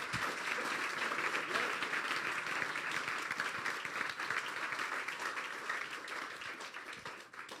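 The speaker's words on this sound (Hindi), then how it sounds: "वेरी गुड पॉइंट, तालियां बजाएंगे हम इस point पे।" Church congregation applauding during a sermon, a sustained, fairly distant wash of many hands clapping that fades slightly toward the end, with faint voices beneath.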